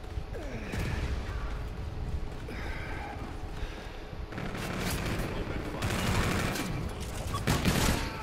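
Gunfire rings out during a Call of Duty: Infinite Warfare match, with bursts of shots and explosive cracks that build toward the end, all under a steady background din of battle.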